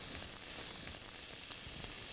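Dried coriander, cumin and chili powder sizzle in a hot, relatively dry pan with vegetables, giving a close, steady hiss with faint crackles and no speech.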